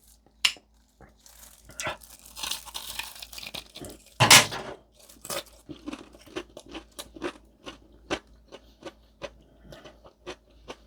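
Crisp, crunchy fried chicken dipped in hot sauce is chewed close to the mic, with repeated sharp crunches in an irregular rhythm and one loud bite burst, mostly alone with faint mouth noises between.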